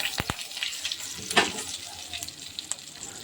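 Tempering for rasam sputters and sizzles in hot oil, a short crackling fry with a sharp pop near the middle, close and fairly quiet with no voices.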